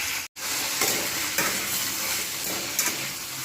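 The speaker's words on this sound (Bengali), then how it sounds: "সুন্দর সব কালারফুল সবজি বেশ কিছুক্ষণ ধরে ভাজতে থাকবো।" Colourful mixed vegetables fry steadily in a pan, a continuous sizzle with a few soft stirring scrapes, close and fairly loud after a brief drop to silence near the start; no voices.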